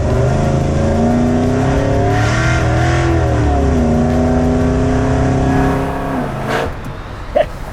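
A 1,000hp ProTouring 1955 Chevy accelerates hard from inside the car, its loud engine droning and rising in pitch through the gears, with a shift dip before the roar fades and a brief clunk at the end.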